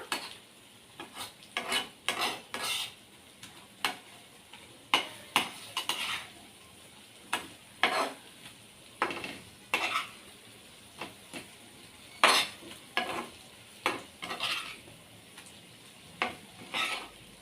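Koramenu fish fry gravy stirred in a pan over a low flame, a spoon scraping and clinking against the metal in irregular bursts over a soft, steady background hiss.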